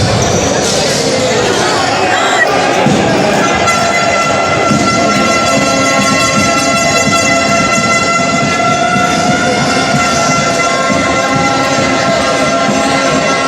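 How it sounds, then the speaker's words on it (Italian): Basketball fans roar throughout in an indoor arena at a Nuoro home game, a loud, dense, continuous din of cheering with sustained horn-like tones running through it. "gran frastuono come potete sentire dai tifosi qui"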